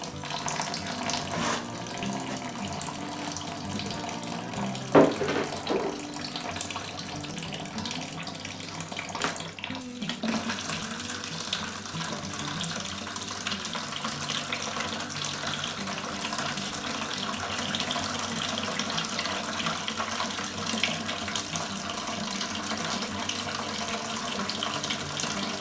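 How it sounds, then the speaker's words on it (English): Apple rye whiskey mash drains into a fermentation bucket in a continuous pouring, splashing gush that runs without a break for about half a minute, close and steady, with a few knocks and clunks near the start. "let's drain our mash over into our fermentation bucket"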